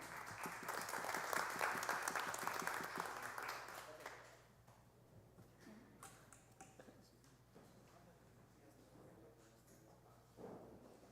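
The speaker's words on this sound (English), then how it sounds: "so we can give you an applause" Applause from the audience at a city council meeting, several seconds of distant, soft clapping from a modest crowd that fades to scattered claps and room noise.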